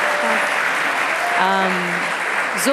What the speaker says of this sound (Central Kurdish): بۆیە چەپڵەیەک بۆ نالەخان بێ زەحمەت